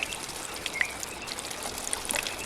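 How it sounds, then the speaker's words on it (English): Rain trickles and drips steadily beside a pond among water plants, a soft, continuous broadband patter with a few brighter drops, fairly faint and close. "The rain trickled down his back"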